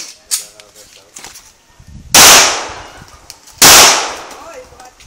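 Two loud, sharp pipe-gun shots ring out with decaying echoes, about a second and a half apart, amid quieter chatter and clicks during target shooting.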